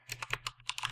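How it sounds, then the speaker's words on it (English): Typing on a computer keyboard while writing Java if-else code: a quick run of about a dozen close, light key clicks in an uneven rhythm, quiet and alone. "if I can type this right"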